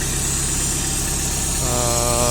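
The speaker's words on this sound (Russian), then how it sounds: "трактор работает, будет плохо слышно" A Mitsubishi D2050 compact tractor fitted with a front blade sits running at a steady, loud idle close by, the engine drone continuous throughout with no voices.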